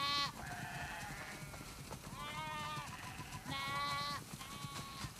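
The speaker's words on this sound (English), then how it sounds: "Wow, that's a lot of sheep." Sheep in the video game The Last of Us Part II bleat repeatedly at moderate distance, several overlapping wavering calls over a soft game-world background.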